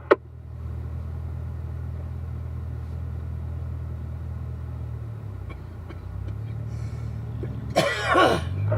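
A line of cars rolls out in single file at Spring Mountain, heard as a low, steady engine rumble that swells slightly near the end and is broken by a brief clatter and a throat-clearing noise.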